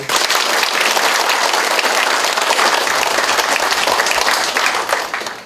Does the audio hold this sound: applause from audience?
yes